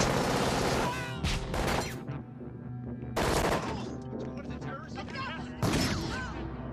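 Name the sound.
gunfire in Terminator film scene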